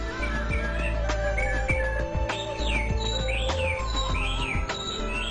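A pet canary chirps and trills from its perch in a bright, repeated run of tweets and sweeping whistles, close and clear over a low steady hum.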